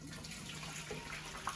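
Water pouring out of a pot of boiled potatoes as they are drained in a kitchen, a steady rushing splash with no pauses, moderately loud and alone.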